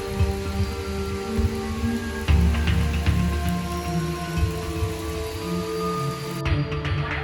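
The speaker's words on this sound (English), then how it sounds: "to prevent the puddling inside the garage every single time heavy rain arrives" Heavy rain pours down outside a garage with cinder block walls, a dense steady patter on hard surfaces with scattered louder drops and splashes, continuous and fairly close, with no voices.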